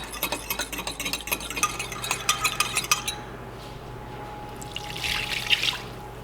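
Seasoning being stirred together with pink curing salt for venison summer sausage, a busy run of quick clinking scrapes for about three seconds, then a steady hum with a softer swishing burst near the end, no talk.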